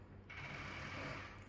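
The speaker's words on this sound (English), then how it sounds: "here comes the lift" A small two-person apartment lift arrives, a faint mechanical whirr and hum with a steady ratcheting, geared drone that holds evenly through a brief moment, with no voices.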